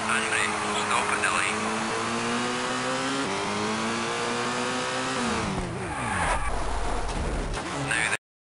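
Car engine in the Colin McRae Rally driving game revving steadily, then dropping sharply in pitch as the car brakes to a stop, with a burst of tyre scrub near the end before cutting off.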